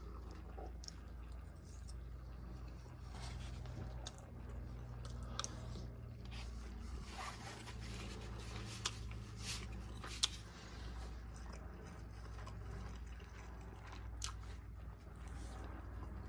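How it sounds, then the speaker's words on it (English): Malaysian Kembara civilian ration nasi lemak rice with pandan and coconut being chewed close up: steady soft squishy mastication with small wet clicks and occasional crunchy bites over a constant low background hum, no talking. "So let's just try the rice by itself."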